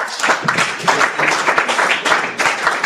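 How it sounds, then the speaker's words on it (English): Audience applause in a hall, loud and close, with bursts of clapping that rise and dip in waves and no speech over it. "Let's give them another round of applause."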